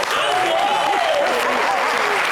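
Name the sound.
studio audience applause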